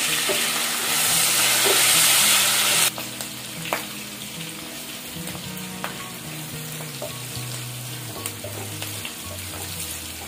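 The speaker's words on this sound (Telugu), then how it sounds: "ఇదే ఆయిల్లో ఆనియన్ వేసుకొని పచ్చిమిర్చి వేసి కొంచెం ఫ్రై చేసుకోవాలి" Onions and green chillies fry in hot oil for a drumstick and dried fish curry, with a loud steady sizzle at first that settles into quieter crackling and occasional stirring scrapes.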